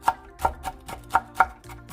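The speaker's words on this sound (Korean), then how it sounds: "청양고추 2개를 잘게 다져주세요." Kitchen knife finely chopping two Cheongyang chili peppers on a cutting board, a string of six crisp, close knocks at an uneven rhythm, with no talking.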